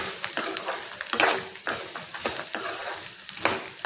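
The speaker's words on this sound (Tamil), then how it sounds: "இந்த மாதிரி லோ ஃப்ளேம்லே வச்சு நல்லா வதக்கிக்கிட்டே இருக்கணும்" Garlic sautés in a pan over a low flame, soft sizzling broken by repeated scraping strokes of a spoon stirring it, close and rhythmic, with no talking.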